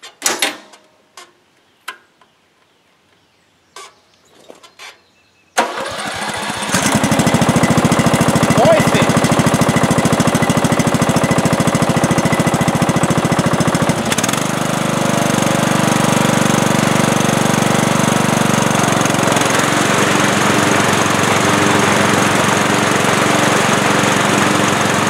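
Push-button start of a lawn mower engine after repairs: a few sparse clicks and knocks, then the engine catches and runs loudly and steadily close by, with a brief dip in pitch midway.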